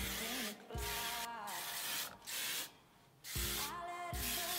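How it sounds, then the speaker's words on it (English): Hairspray is sprayed onto styled wavy hair in several short, close hissing bursts, each a second or less, separated by brief quiet gaps. "I'm just gonna finish off with some hairspray."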